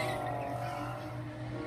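A BMW E90 drifting at a BMW car meet, its engine a steady, faint drone heard from a distance, with a hint of tire noise and no voices.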